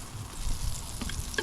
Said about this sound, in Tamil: அதே சட்டியில் நாங்கள் எண்ணெயை போட்டு வெங்காயத்தை தாளிக்க வரும்